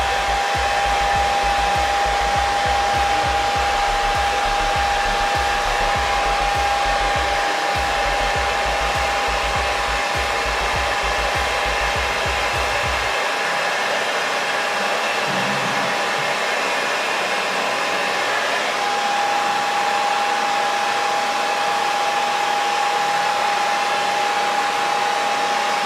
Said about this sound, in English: now I'm just gonna blow dry the edges to dry those